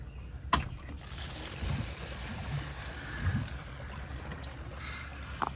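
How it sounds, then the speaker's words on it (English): Water rushes steadily out of an RV black waste tank as it drains, a continuous close hiss and gurgle with no talking. "you can hear the rush of water coming out"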